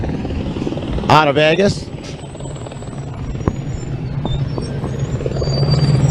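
A racing team's helicopter flies over an off-road desert race course, a steady rotor thrum under a live commentator's talk, with a brief burst of voice near the start.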